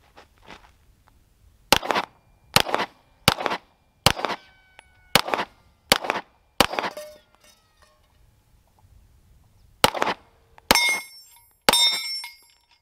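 A rifle fires a run of single shots toward a target, sharp loud cracks coming in a quick steady rhythm of about seven, then a pause and a few more close reports.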